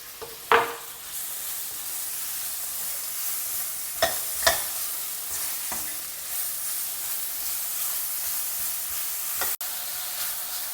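Sliced cabbage and capsicum stir-fry in a pan with a steady close sizzle, broken by a few knocks and scrapes of a spatula over about ten seconds.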